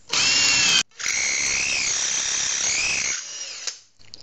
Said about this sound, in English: Now I repeat the process using a bigger drill bit.